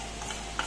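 Whole spices (cinnamon, cardamom, cloves) are stirred briefly in oil in a pan for egg masala curry, a soft sizzle with faint scraping and one small clink near the end, close and quiet, no voices.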